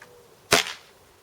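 A Zasdar PP700S-A air pistol with a silencer fitted is dry fired once, giving a single sharp, short snap that decays quickly in a quiet room.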